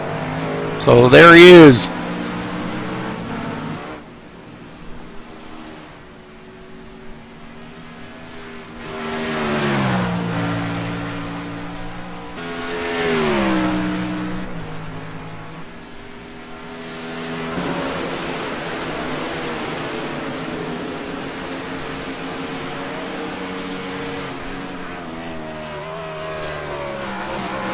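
Star Mazda race car engine on track, a steady mid-distance drone with rising and falling pitch sweeps as the car accelerates and shifts, running under continuous commentary.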